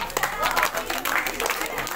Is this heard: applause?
yes